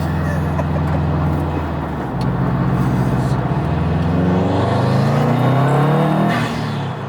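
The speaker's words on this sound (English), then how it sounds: "the Subie Rumble is like very well known" A third-generation Subaru STI engine rumbles loudly up close, its burbling tone rising as it revs and accelerates.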